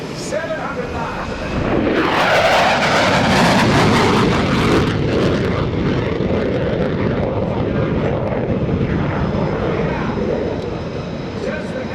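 An F/A-18F Super Hornet roars past overhead at an airshow, surging suddenly to a loud, tearing rush and then rumbling on as a broad, fading engine drone.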